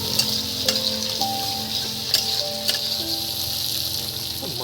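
Tomatoes go into a pan of frying cabbage on a clay stove, giving a steady close sizzle with a few sharp ticks and spoon knocks spread through it, and no talking.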